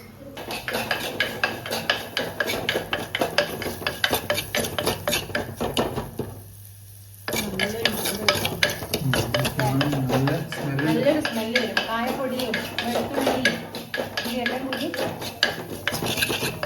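Metal spoon scraping and clanking in a pan while fenugreek, garlic, shallots, ginger, asafoetida, green chilli and salt fry in coconut oil, steady stirring with a faint sizzle and a brief pause, people talking over it at home.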